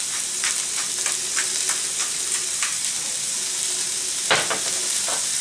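Seasoned vegetables sauté in a pan with salt and pepper, giving a steady loud sizzle and hiss punctuated by scraping stirs and occasional clatters of a utensil, with no voices.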